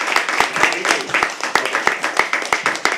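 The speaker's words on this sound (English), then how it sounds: "Keep clapping" Applause from an audience at a live poetry open mic, sustained clapping with sharp individual hand claps standing out, fairly close and steady for the whole stretch.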